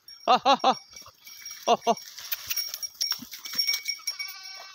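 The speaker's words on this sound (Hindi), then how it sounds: "ये देखो जंगल में और भी हमें भेड़ बकरियाँ मिलेगी।" A flock of sheep and goats bleat in village jungle scrubland: a rapid run of three loud, close bleats, then two more, followed by quieter rustling and distant animal sounds.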